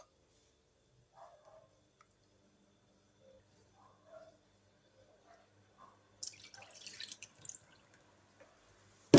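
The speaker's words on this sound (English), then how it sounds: "So I'm adding in 2 cups of water milk." Milk is poured into pancake batter, heard as a short, close splashing pour near the end after a quiet stretch with a few faint drips and small kitchen sounds.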